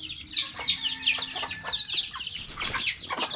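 Pet hens clucking close by in a backyard flock, a quick run of short overlapping clucks and chirpy calls, with some rustling and a faint wing flap among them.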